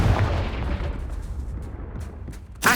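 In the Hogwarts Legacy video game, the Confringo blasting spell makes a deep rumbling explosion that rolls and fades over a couple of seconds, followed by a sharp burst at the end.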